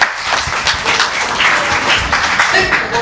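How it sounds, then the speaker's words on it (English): An audience at a kids' public speaking talent hunt applauds someone speaker, a close, steady crowd of clapping with a few sharper individual claps standing out, continuing for the whole stretch. "Can we have a big round of applause for him"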